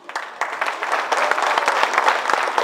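Applause at a graduation ceremony for the three teachers of the adult classes: a dense, steady wash of many hands clapping that rises slightly and holds for the whole stretch, near and loud.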